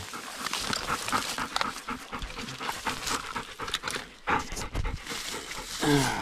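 A dog pants rapidly and loudly close by outdoors in the Boundary Waters woods during grouse hunting and deer scouting, a continuous rough breathy rhythm with brief pauses.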